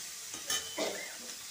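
Beans and eggplant frying in a pan while being stirred, a soft sizzle under a couple of brief scraping strokes, close but quiet.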